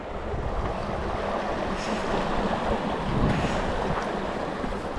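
Strong river current rushing, a broad continuous roar of moving water with wind buffeting the microphone, steady and loud with no voices.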